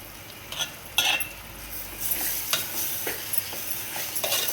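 A spatula stirs and scrapes grated mango and carrot pickle frying in a pan, with irregular clinks over a steady soft sizzle.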